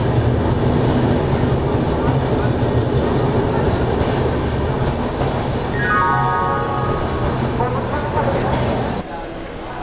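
Poorva Express passenger train rolling through Asansol station, a loud steady rumble with clattering wheels and a brief rising tone partway through, crowd voices and talk mixed underneath.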